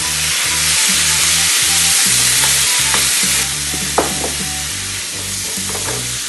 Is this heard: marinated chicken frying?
yes